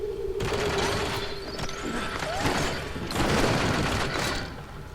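Rapid bursts of gunfire in The Bourne Conspiracy video game crackle over a dense mechanical soundtrack, with swelling rushes and clanks throughout.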